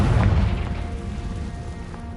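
A low boom from the Confringo spell in Hogwarts Legacy opens loud and then fades into a rumbling tail, with no one talking over it.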